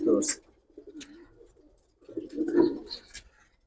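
Pair of silver Giribaz pigeons cooing close by, two soft throaty coo phrases separated by a short pause, with faint background noise.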